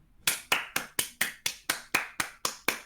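Eleven sharp hand claps in an even, steady rhythm, close and clear with near silence between them, from a single person applauding during a League of Legends livestream rebroadcast.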